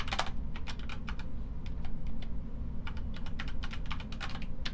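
Someone types on a computer keyboard, with quick irregular bursts of key clicks over a steady low background hum and no talking.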